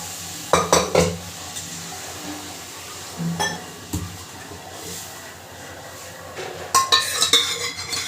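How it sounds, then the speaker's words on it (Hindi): A slotted ladle turns dal baafle in boiling water with turmeric, giving scattered metallic clinks and scrapes against the pot in short bursts over a low bubbling background. "इस टाइप के झारे से आपको हल्के हल्के हाथ से आपको पलटाते रहना है, ताकि नीचे चिपके ना"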